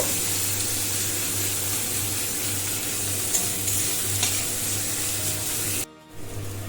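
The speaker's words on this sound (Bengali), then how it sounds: "পেঁয়াজটা লাল লাল করে ভেজে নেব।" Chopped onion frying in oil with bay leaves, for a Bengali-style chicken curry; a steady, close, loud sizzle runs throughout and cuts off abruptly near the end.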